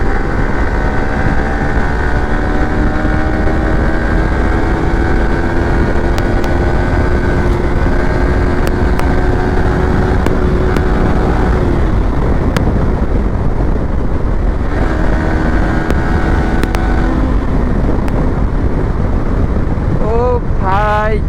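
A Bajaj Pulsar N160 motorcycle engine pulls hard at the top end in fourth gear while riding on a road. Its steady droning tone rises and falls across the ride under heavy wind rush, with the pitch sliding down near the end.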